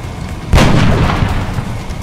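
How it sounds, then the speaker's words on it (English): A single sniper rifle shot in XCOM: Enemy Unknown, a loud, close, booming crack with a long rumbling tail and no voices over it. "Switch back to your sniper. And good, you can see him. Take the shot."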